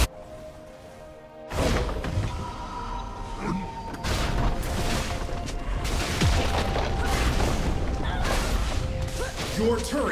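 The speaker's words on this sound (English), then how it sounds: "Your turret has been destroyed." A tower being destroyed in League of Legends gives a series of booming crashes and thuds amid game effects, with speech over the din.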